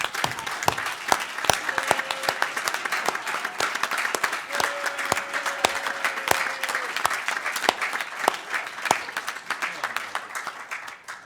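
Applause for paramedics at a members meeting, a moderate spread of individual claps running steadily for several seconds, fairly close, with a brief tone and faint background murmur.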